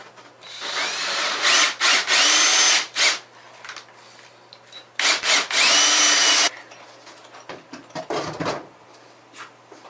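Power drill with a wet water bit boring into cement board during an installation, grinding in loud, sustained bursts with short pauses between them and tapering off into quieter scraping and handling noises.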